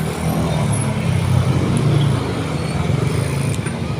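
Steady road traffic in Consolacion, Cebu, a continuous low rumble of car and truck engines passing nearby, loud and unbroken throughout with no voices.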